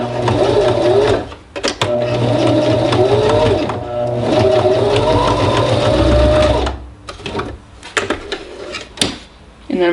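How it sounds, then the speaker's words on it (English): A sewing machine triple stitches along a serged seam to secure a rolled sleeve hem on a romper, running in close, loud bursts of steady needle chatter broken by brief pauses and a few clicks and handling knocks. "All I'm gonna do is triple stitch right on top of this serged seam here to hold it in place."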